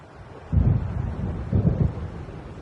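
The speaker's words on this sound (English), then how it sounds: "It seems there's a storm coming." Low rolling thunder from an approaching storm in the video game Alan Wake, two deep rumbles swelling a second apart over a steady windy background.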